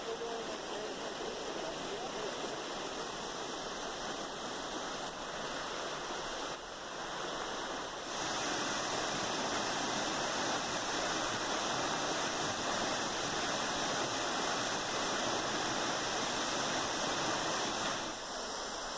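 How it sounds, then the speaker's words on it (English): Steady broadband rush of a waterfall near Scranton, Pennsylvania, continuous and fairly close, with a slight dip in level around the middle before the roar swells and holds evenly to the end. "Now the other waterfalls I'm showing you here are from Scranton, Pennsylvania in the area."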